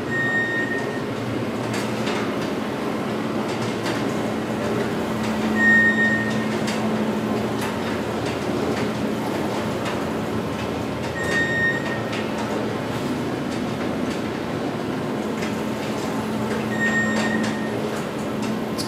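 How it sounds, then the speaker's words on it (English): An Otis traction freight elevator door at a university building opens onto a loading dock, a steady mechanical rumble and hum running throughout with a few brief chime tones; no one speaks. "Cool how that door opens onto the dock back there"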